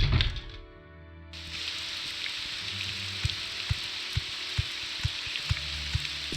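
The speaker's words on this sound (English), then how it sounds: "It's still raining." Steady rain in the video game Morrowind, a broad constant hiss like a downpour on a surface, with periodic sharp knocks recurring about once a second after a brief quiet opening.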